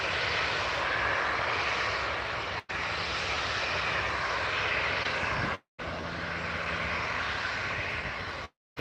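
Engine roar of a Ryanair airliner at Newcastle International Airport, a loud, sustained broadband drone carrying on with no voices, interrupted by a couple of brief cutouts.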